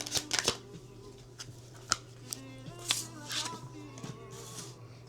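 A deck of tarot cards is shuffled close by in quick riffling bursts and soft flicks, quiet and uneven in rhythm, with faint talk in the background.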